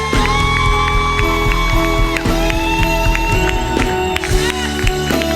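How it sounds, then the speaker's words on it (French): A church congregation cheers and acclaims loudly during a lively worship service, voices shouting in joy over steady music with a dense, continuous crowd roar throughout. "Nous accueillons ce feu par nos acclamations, nos cris de joie."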